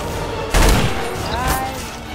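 Gunfire rings out in Garry's Mod: a sudden loud burst of shots, then a softer second volley a moment later, over a steady background rumble.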